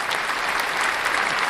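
A short burst of crowd applause plays as a sound effect, steady dense clapping at moderate loudness for little more than a second.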